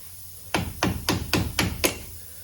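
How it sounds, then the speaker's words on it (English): Six sharp metal hammer strikes on the hub assembly of a 2004 Grand Caravan ring out in a steady rhythm, close and loud, each one clanging on hard metal. "See if we can hook in and hammer it."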